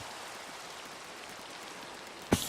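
Steady rain hisses at night in Minecraft, an even wash of falling drops broken near the end by one sharp, loud click.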